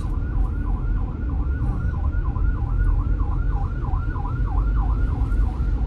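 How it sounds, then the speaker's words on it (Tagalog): An ambulance siren wails on the road with a fast, steady rising-and-falling yelp, loud and continuous over a low rumble of traffic and engine noise, with no talking. "Ambulance na naman, guys."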